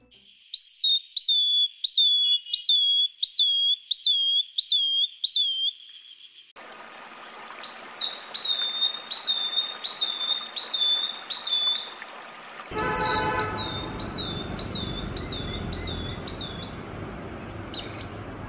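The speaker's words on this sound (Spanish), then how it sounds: "Sus melodías se pueden identificar fácilmente en los bosques donde habita, ya que son silbidos fuertes y agudos" Loud, sharp whistles of a long-tailed broadbill repeat in quick, evenly spaced phrases, each a rising then falling note, heard clearly over a quiet forest background that grows noisier later.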